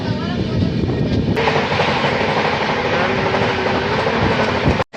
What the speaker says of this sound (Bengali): আমরা ট্রেনে উঠে পড়ছি, আর কিছুক্ষণের মধ্যে আমাদের ট্রেনটা ছেড়েও দেবে